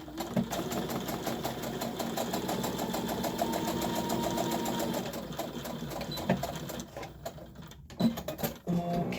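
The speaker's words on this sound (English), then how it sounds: "you're just going to sew that straight across" A sewing machine stitches a seam straight across fabric for a hanging storage pod, a steady close mechanical whirr for several seconds that slows and stops, followed by brief handling clicks.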